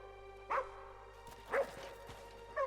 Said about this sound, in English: I'm listening to dogs all day, and I've got to listen to that.